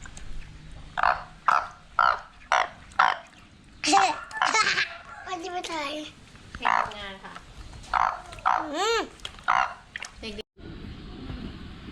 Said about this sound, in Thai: มีกบที่นี่